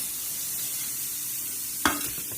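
Peanuts in their shells roast in a pan with a soft, steady background sizzle, broken near the end by one sharp clatter of the pan or stirring.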